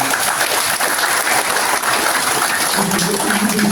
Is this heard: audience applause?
yes